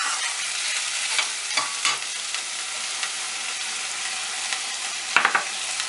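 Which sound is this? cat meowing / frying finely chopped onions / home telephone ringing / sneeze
frying finely chopped onions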